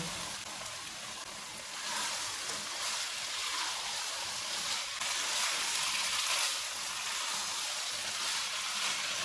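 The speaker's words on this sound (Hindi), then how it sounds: "अब हम इसमें 500 ग्राम आलू डालेंगे। इनको 2 से 3 मिनट तक भूनेंगे।" Potatoes sizzle in hot oil with browned minced meat for aloo keema, a steady, dense frying hiss that runs evenly through the whole stretch at moderate loudness, with no talking.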